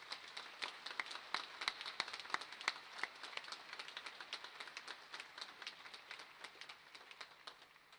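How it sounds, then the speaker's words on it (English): Scattered, moderately close hand clapping from a graduation ceremony audience as university musicians leave the hall, individual claps distinct and gradually thinning and fading over several seconds. "Let's give them another round of applause as they now leave the hall."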